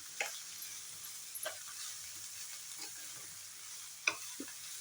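A spoon stirs carrot and peanut fry in a pan after salt is added, giving a soft, quiet frying hiss with a few scattered scraping strokes, one sharper clink near the end, and no talking.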